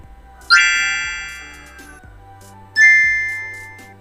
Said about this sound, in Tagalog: don't forget to subscribe and hit the notification bell